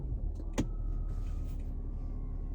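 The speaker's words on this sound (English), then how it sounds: "Now let's drive this BMW 730D." A 2022 BMW 730d xDrive G11 diesel sedan drives along, with a low, muted cabin hum and road rumble and a brief click early on, quiet and smooth throughout.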